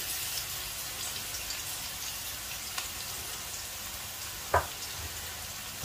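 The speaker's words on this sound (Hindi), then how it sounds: "अब प्याज को मैं पकाऊंगा जब तक ये हल्का सा ब्राउन हो जाए।" Finely chopped onion fries in hot ghee in a wok, giving a faint, even hiss of sizzling with one brief utensil clink near the end.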